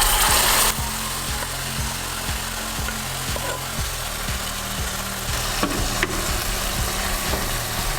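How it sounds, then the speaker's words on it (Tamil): Cooked barnyard millet rice tipped into a pan with cashews and curry leaves in ghee and oil, then stirred: a loud opening sizzle and rush, followed by steady frying hiss with repeated scraping strokes of a spoon, no talking. "இப்போ இதில் நம்ம வேக வச்சுருந்த குதிரவாளி அரிசி"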